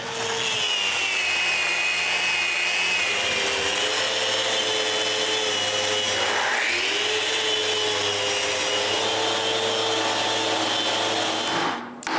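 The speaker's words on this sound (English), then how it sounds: "I also need to take care of all the places that I've never sanded before." Continuous power-tool sanding on a handmade wooden bandsaw, a loud, steady whirring grind with rubbing texture and a brief pitch dip midway, running without pause until it cuts off at the end.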